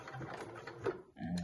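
A sewing machine running black thread and making a short back stitch, giving a brief, faint mechanical whir with quick rattling pulses, then a pause and a small restart near the end.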